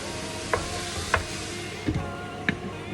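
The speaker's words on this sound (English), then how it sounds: "And just keep stirring it and breaking it up every minute, couple of minutes." Spicy beef hash being stirred and broken up in a pan, with a spoon scraping and knocking in four or five soft, spaced strokes over a steady low sizzle.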